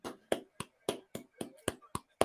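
Hands clap in a series of eight sharp, separate claps with uneven spacing at a WWE WrestleMania 39 event, close and fairly loud, with a faint voice murmuring between them.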